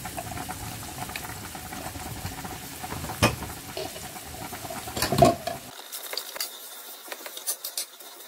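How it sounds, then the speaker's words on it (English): Spaghetti boiling in a kitchen pot, a soft, continuous bubbling and gentle patter, fairly quiet and close, with a few brief clinks and stirring sounds. "Meanwhile, we are boiling the spaghetti."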